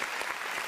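Applause on a livestream: a brief burst of dense, blended clapping, steady and fairly faint, with no talk over it.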